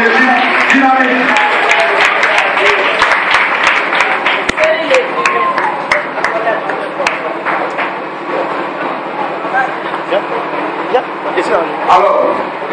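An audience applauds to welcome Brother Chéri Gislain, president of the JMF, and his team, a steady wash of clapping and crowd noise throughout, with voices mixed into the cheering.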